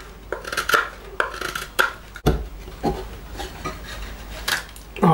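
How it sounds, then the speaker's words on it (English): A Sanrenmu S625-1 fixed blade knife shaves a piece of wood in a series of short scraping cuts, roughly one every half second, close and fairly crisp, with a sharp knock partway through and no talk. "very easy to whittle a piece of wood."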